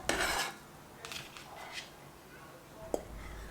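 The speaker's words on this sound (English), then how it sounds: "Use a wide ladle like this and gently fold from down to up." A wide ladle gently folds cooked rice in a pot for a garlicky Ottoman rice dish, giving a few soft scrapes and light metallic clinks, faint and spaced out against quiet background.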